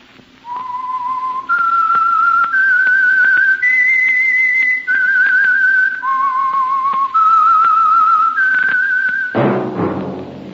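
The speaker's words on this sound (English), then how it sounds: "That whistle." A clear, steady whistled melody of sustained notes stepping up and down in pitch, close and alone, ending with a brief noisy burst.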